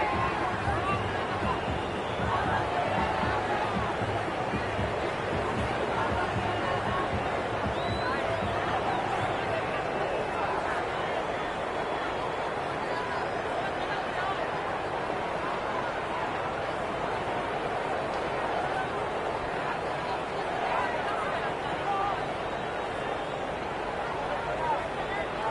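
Cricket stadium crowd in the video game Cricket 26, a steady, dense roar and murmur of a large audience that holds at an even level throughout, with a commentator's voice talking over it.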